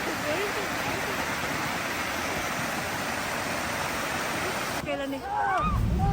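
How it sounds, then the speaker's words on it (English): Bridalveil Fall in Yosemite, a waterfall plunging 620 feet in a single drop, sends up a steady, loud roar of rushing water, with a voice briefly audible near the end. "Here is Bridalveil Fall."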